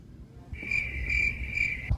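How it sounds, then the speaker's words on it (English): A crickets-chirping sound effect plays after a bad joke, a steady high-pitched trill of pulsing chirps starting about half a second in and running alone for nearly a second and a half before a low thump. "Crickets on that one."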